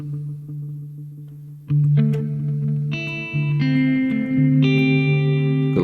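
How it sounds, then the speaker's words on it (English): Electric guitar played through a pedalboard into a two-amp rig with spring reverb, including a Vox AC-15, ringing out sustained notes and chords that stack and decay with a reverberant tail. "a little spring reverb dialed in,"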